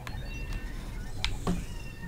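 A cat meows a few times, short high cries over a steady low background hum, with a voice murmuring faintly underneath.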